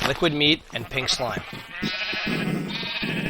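Sheep bleat in the Minecraft FTB modded game (version 1.6.4) beside an automated animal slaughterer and breeder: a few close, wavering bleats early on, partly overlapping someone talking throughout.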